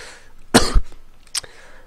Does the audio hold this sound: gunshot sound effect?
no